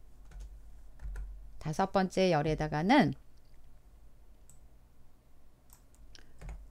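Quiet clicks of computer keyboard keys are pressed in short bursts during spreadsheet work, with a voice talking briefly partway through.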